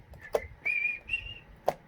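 A person tries to whistle, producing a few thin, breathy tones of about a second each, with two sharp taps in between, alone and fairly quiet.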